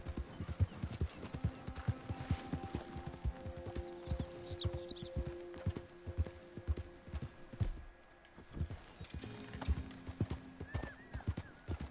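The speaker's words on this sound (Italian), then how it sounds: "Corri, cavallo, corri." Horse hooves clip-clopping in Red Dead Redemption 2, a steady rapid beat running throughout with an occasional whinny, close and prominent over a quiet game soundtrack.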